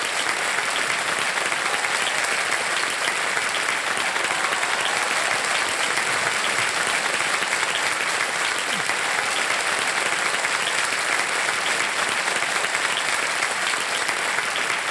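Studio audience applauding on the KBC game show Kaun Banega Crorepati, a steady dense roar of clapping that stays loud and even throughout, with no voices over it.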